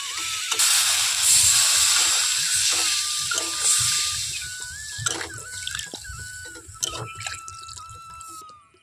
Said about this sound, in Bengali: এখন দিয়ে দেব জল